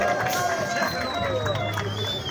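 Crowd at a political rally in Laguna Temporal, a busy hubbub of voices and scattered clapping with whistles or cheers over it, loud and close, while people talk throughout.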